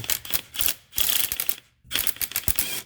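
A 12 mm ratchet wrench turning a bolt on a 2009 Subaru Forester during clutch fork work: rapid bursts of close clicking in three runs, separated by short pauses.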